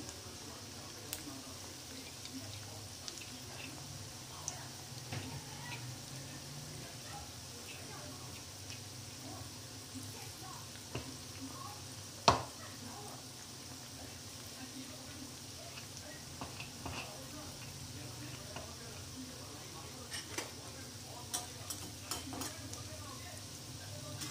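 Maggi pakoda frying in hot oil and being stirred, a steady low sizzle with occasional soft clinks of a utensil against the pan and one sharp tap near the middle.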